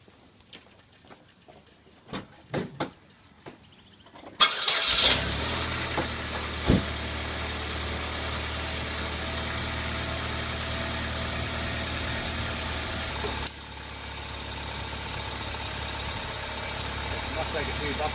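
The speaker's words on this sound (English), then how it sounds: "Now what we can do now is start the engine" A few faint clicks, then a Holden SB Barina engine cranks and catches, settling into a steady rumbling idle that continues, with a brief click partway through.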